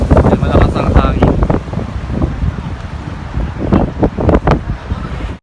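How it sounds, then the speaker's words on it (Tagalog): Strong wind during a sandstorm in Riyadh, with light drizzle, roars and buffets the microphone in loud gusts while a person talks over it. "yung sandstorm dito sinasamahan ng hangin at konting patak ng"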